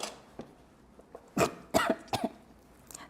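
Someone coughs several times in short, uneven bursts, some doubled, fairly close and moderately loud against a quiet room, while SCR powder and liquid ingredients are mixed for making natural soap.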